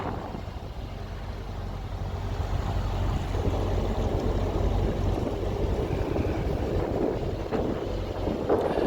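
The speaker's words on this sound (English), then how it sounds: "Bit windy." Steady wind buffets the microphone with a low, rumbling roar that continues throughout with no voices.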